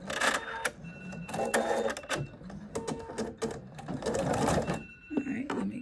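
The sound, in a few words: mySewnet embroidery sewing machine starting to stitch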